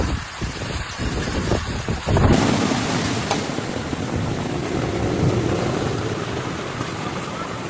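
A thunderstorm with heavy rain in Romania's Galați County region: a dense, loud roar of rainfall fills the scene, preceded by a few rumbling low thuds before the downpour swells.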